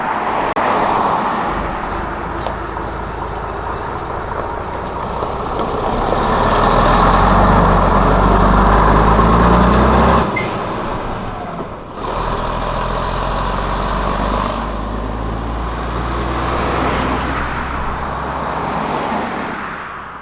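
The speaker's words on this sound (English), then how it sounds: "MFZ9840 moves out of Erdington Yard with the 12:05 PM shuttle bus service." Vintage bus MFZ9840 pulls out of Erdington Yard on a heritage railway shuttle service, its diesel engine loud and close, revving up, holding a strong throaty drone, then briefly dropping before settling into a steady run.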